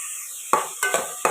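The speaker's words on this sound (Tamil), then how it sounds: "மூணு பச்சை மிளகாவும் மீடியம் சைஸ் ஆகும் இதுவும் இதோடு சேர்த்து நல்லா வதக்கலாம்" Chopped onions and three green chilies sauté in a pan for a country chicken curry, giving a steady low sizzle broken by three sharp stirring scrapes close by.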